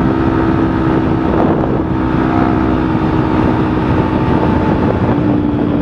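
A remapped motorcycle fitted with a new aftermarket exhaust rides along at a steady, continuous drone with a strong low rumble and wind buffeting, loud and close throughout without talk.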